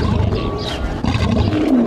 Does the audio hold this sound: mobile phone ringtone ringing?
no